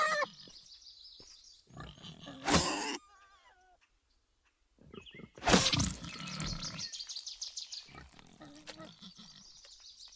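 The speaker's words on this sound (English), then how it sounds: "we could stay out here and kill these pigs" Pigs in the video game Mortal Online 2 grunt and squeal in loud bursts, several distinct calls with short silent gaps between them, heard close by and partly mixed with voices.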